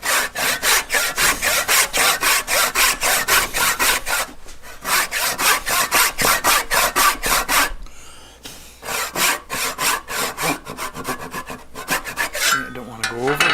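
Hand saw cutting through wood for a half lap miter joint, fast steady rasping strokes in a regular rhythm, close and loud, with a brief pause partway and a short break before sawing resumes.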